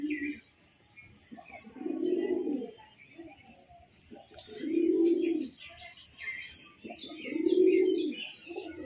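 Pigeons in a loft give three separate bursts of deep, throaty cooing, each lasting about a second, with quieter gaps and faint chirping between them.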